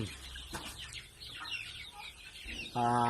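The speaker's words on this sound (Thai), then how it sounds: "อันนี้ไก่สองร้อยตัวนะครับ ไก่สองร้อยตัว" Chickens about one month old in a coop of roughly 200 birds cluck and cheep, soft overlapping calls at moderate distance, ending with one louder, close, drawn-out squawk.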